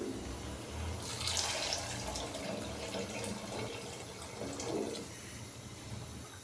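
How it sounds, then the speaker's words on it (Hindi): Water from boiling chickpeas is poured into a pot of chickpea paste for Lahori kali mirch channay, a steady splashing pour that swells and fades over several seconds, with no talk. "अभी मैं इसके अंदर पानी डालूंगा"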